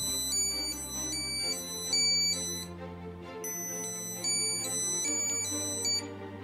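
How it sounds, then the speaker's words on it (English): A Samsung Galaxy SmartTag tracker rings when triggered from a phone, playing a bright repeating electronic melody of high chiming tones in short phrases, loud and close with nothing else heard. "you can ring up the tracker using your phone"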